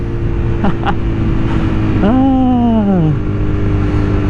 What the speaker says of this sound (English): Bouncing it off the rev limiter